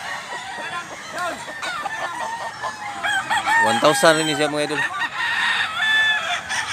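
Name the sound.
rooster crowing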